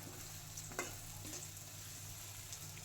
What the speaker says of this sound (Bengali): আমি পেঁয়াজটা ভাজার চেষ্টা করি